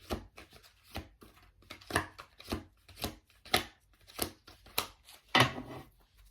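Tarot cards are shuffled by hand in a quiet room, a regular series of crisp riffling and slapping bursts, close and alone, roughly two per second.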